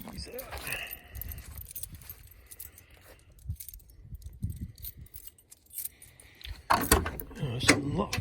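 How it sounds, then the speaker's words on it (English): Keys jingle in clustered bursts while someone handles them, most loudly near the end, with a voice talking in between. "My keys out."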